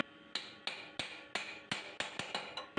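Light hammer taps land on the cam gear of a Honda CG 125 motorcycle, struck through a piece set on top to protect the teeth: about nine crisp, close metallic knocks at uneven intervals, with no talk.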